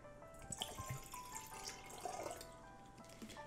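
Spring mountain water poured into a fancy glass in a kitchen, a soft, quiet trickle with light splashes and gurgles throughout.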